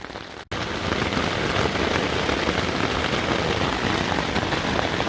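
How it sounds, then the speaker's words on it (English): Heavy rain pours onto a Naturehike Opalus 2 tent during a solo overnight camp, starting abruptly after a short pause and then drumming loud and steady on the fabric. "And she's bucketing down."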